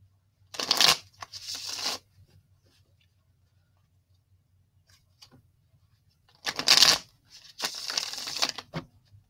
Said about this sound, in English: we'll shuffle these up and then I'll cut them